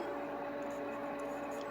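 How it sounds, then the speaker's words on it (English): A steady electrical hum with a faint high whine drones continuously in the background, even and unchanging throughout. "you can hear a little noise in the background. That's my induction top over there."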